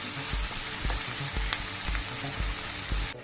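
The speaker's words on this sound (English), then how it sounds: "We stir all the vegetables together," Mixed vegetables for a Spanish omelette sizzle steadily in a pan while being stirred, a loud continuous frying hiss broken by regular soft scraping strokes of the spoon.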